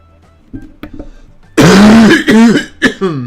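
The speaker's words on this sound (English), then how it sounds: "That's a nasty cough." A person coughs and clears their throat nearby, a few small throaty noises followed by a loud, harsh cough burst and two shorter hacks.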